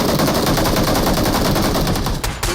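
Rapid automatic gunfire in the PUBG Mobile video game, loud sustained bursts of shots rattling almost without pause, with a brief dip near the end.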